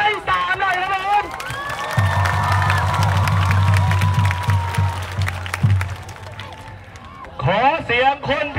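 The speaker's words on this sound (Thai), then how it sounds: "ขอเสียงปรบมือต้อนรับไม้สามหน่อยครับผม" A crowd applauds and cheers at a student flash mob rally at Thammasat University's Rangsit campus, a sustained roar of clapping and shouts framed by amplified speaking voices before and after.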